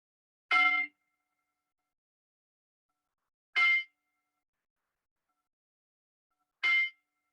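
A meditation bell rings three times at an even, unhurried pace about three seconds apart. Each strike is a bright metallic clang that fades quickly into silence, close and clear with no other sound.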